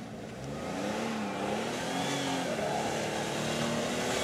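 A Jeep engine revs hard and holds at high throttle during a burnout, pushing against its front tire, a close, sustained drone with a slowly wavering pitch.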